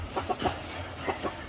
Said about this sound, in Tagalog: Ito mga boss, yung heni natin.